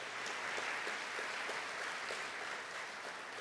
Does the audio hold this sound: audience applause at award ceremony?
yes